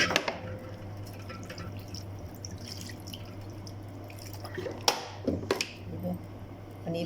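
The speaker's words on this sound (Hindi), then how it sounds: "इस तरह से थोड़ा थोड़ा पानी डाल के जो है हम इसको अच्छी तरह से धो लेंगे।" Small amounts of water are poured over freshly made chhena (paneer) being washed for rasgulla, giving soft dripping and splashing, with a few sharper splashes near the end over a low steady kitchen hum.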